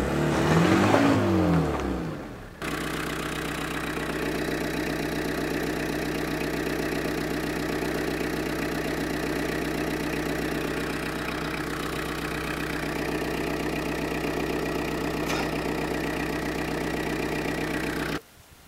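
A Peugeot 205 4x4 engine rises through a short rev, then settles into a long steady high idle held under load as the rear wheels are tested, cutting off abruptly at the end.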